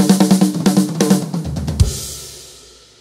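A song's drum fill played at full tempo, a loud run of quick 32nd-note strikes on snare and toms, ending in a cymbal crash that rings out and fades, with no voices.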